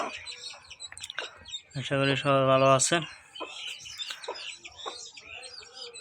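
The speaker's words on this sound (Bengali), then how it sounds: "আমার এই মুরগিটা এখন 8টা বাচ্চা ফুটছে" A hen with eight newly hatched chicks clucks while the chicks give faint, high peeps nearby. A voice talks over much of it.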